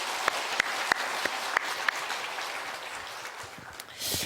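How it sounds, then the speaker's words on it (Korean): A church congregation claps together after the choir and instrumental ensemble finish, a dense sustained wash of applause with a few sharp louder claps, swelling again near the end. "우리가 박수 한번 다시 한번 드릴까요?"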